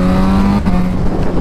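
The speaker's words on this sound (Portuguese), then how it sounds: "essa moto também a gente adaptou um quick nela, né? Um quick aí do Paulinho Superbike" Suzuki SRAD 750 motorcycle fitted with a quickshifter, engine held at a loud, close high rev with a brief dip and step in pitch like a quick gear change.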